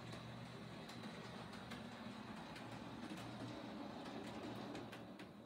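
A Rivarossi model locomotive on an MRC Tech 3 Power Command setup runs slowly along the track with a soft, steady motor hum and faint rhythmic wheel clicks, with no talking.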